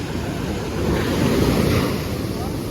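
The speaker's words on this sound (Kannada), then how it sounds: "ಅಲೆಗಳು ವಿಪರೀತ ಜೋರಾಗೈತೆ" Strong monsoon sea waves surge at a Mangalore beach at night, a loud, continuous roar of surf mixed with gusting wind noise.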